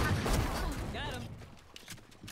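Gunfire from the video game Valorant comes as a brief burst of rapid shots at the start, then fades into a quieter in-game background.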